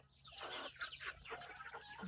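Chickens cluck and chatter at a farm in a dense, close flock, with short irregular calls overlapping throughout a couple of seconds, and faint human voices in the background.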